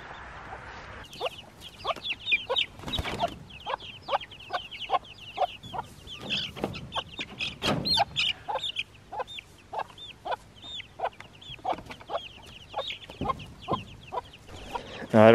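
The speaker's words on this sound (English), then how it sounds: "We got a loose chick." Seven young chickens in a backyard coop cluck and peep in rapid, busy bursts throughout, close and lively, with faint rustling and a brief louder noise at the end.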